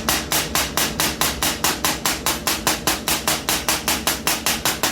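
Hammer blows ring out on fresh MIG welds from a small 130 flux-core welder, about twenty sharp metallic whacks struck in a quick, steady rhythm, loud and close with nothing else heard.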